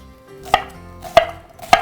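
Three sharp, evenly spaced knife chops on a cutting board as grilled vegetables with grill marks are sliced, close and distinct against a quiet background with no talk.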